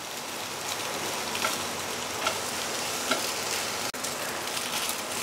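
Scrambled egg fries in an oiled pan, broken into chunky pieces with a spatula, giving a steady dense sizzle with a few small pops, close and alone.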